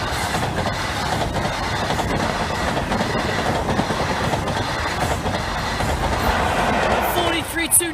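A passenger train bound for Inverness runs past on the East Coast Main Line, a loud, steady roar with rhythmic clickety-clack of wheels on rail joints through the whole stretch, fading slightly at the end.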